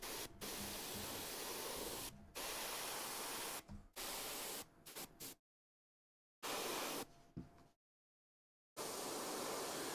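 Airbrush or spray can hissing in broad bursts as yellow paint goes over a miniature model, several long sprays broken by short pauses and near-silent gaps, close and fairly loud.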